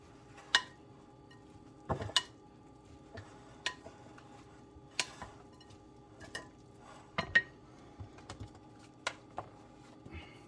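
Utensils clinking and scraping against a pot or pan while a vegan rice dish is stirred, giving sparse, irregular sharp taps spread through a quiet kitchen with no talking.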